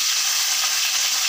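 Tomatoes and green chillies frying in hot oil in a pan, a steady close, loud broadband sizzle that holds evenly throughout with no voices.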